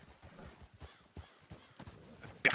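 Horse hooves clip-clop at a walking pace in the video game Red Dead Redemption, soft and fairly close, ending with a brief louder noise.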